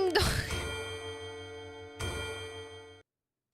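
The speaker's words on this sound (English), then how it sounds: "The teeming of the clock rings out loudly." A clock in Goddess of Victory: Nikke chimes twice, two resonant bell strikes about two seconds apart whose ringing tones linger and fade before cutting off.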